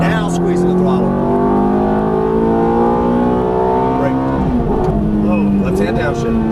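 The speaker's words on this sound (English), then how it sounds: "Now squeeze the throttle." A Ferrari F430 engine roars loudly and close on a racetrack, its pitch climbing steadily as the throttle opens, then wavering near the end; an instructor's voice talks over the engine.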